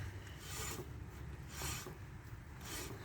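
A bicycle brake caliper rubs against the wheel's brake disc as the wheel is turned, making three faint, evenly spaced scraping rasps about a second apart, close and quiet with no speech.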